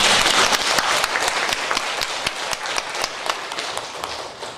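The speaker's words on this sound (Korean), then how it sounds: "다시 한번 큰 박수." An audience at a humanities lecture forum in Daejeon gives an enthusiastic round of applause, dense loud clapping that fills the hall and slowly eases, with no speech over it.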